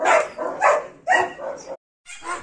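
Dogs bark outdoors in a loud, close series of about five sharp barks and yips, with a short silent pause before the last one.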